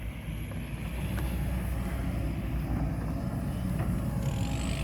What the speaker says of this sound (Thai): 5018คูโบต้า เสียงกระหึ่มมาถึงนี่เลย